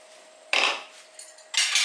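Sharp scissors snip through plastic cling film in a home kitchen, two crisp, bright cuts about a second apart, close and fairly loud over a quiet background.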